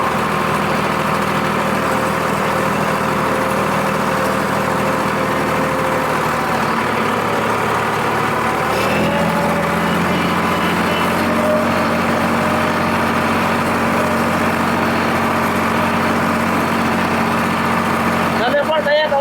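A tractor engine idles and rumbles steadily at close range while reversing in a field, with a slight shift in tone partway through as it moves, and no talking.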